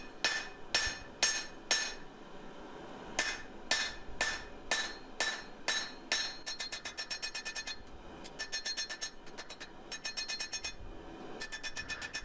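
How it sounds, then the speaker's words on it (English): A hammer strikes the bevels of a hot multi-layer Damascus steel knife blade, ringing out in close, bright metallic blows, first slow and spaced, then quickening into rapid bursts of light taps, with no talk. "now I'm hammering the bevels just to widen out the knife a little bit"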